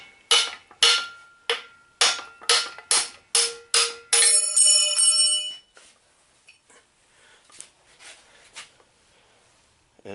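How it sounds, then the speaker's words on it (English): A copper hammer hits a socket held against a pin on a Bobcat 331 mini excavator. About eight sharp, ringing metallic strikes come in steady succession, followed by a sustained metallic ring and a few quieter taps, close and loud. "I'm going to use a socket that fits, and I've got a hammer that's got copper in it"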